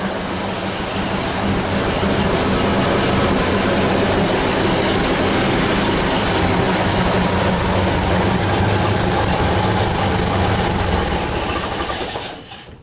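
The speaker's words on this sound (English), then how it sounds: "turn it on one more time" A 1930 Ford Model A engine, run on an 8-volt battery, idles with a loud, steady mechanical clatter close by, then cuts off near the end.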